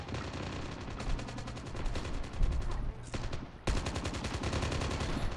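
Call of Duty Mobile gunfire, steady rapid automatic bursts hammering almost without pause, with one short break near the end before the firing resumes just as loud.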